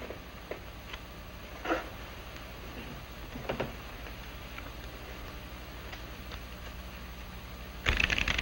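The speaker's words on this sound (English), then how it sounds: "You shuffle and cut." A deck of playing cards is shuffled at a card table in an old Western drama. Faint scattered ticks and soft snaps give way to a short, brisk riffle burst near the end, set against quiet room tone.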